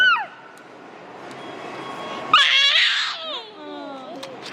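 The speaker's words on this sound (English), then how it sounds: "Why are you screaming?" A child screams in high, wavering bursts partway through, preceded by a brief high cry and a quiet stretch of room noise.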